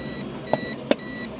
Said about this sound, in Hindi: ये बीप का साउंड हमारा आ रहा है,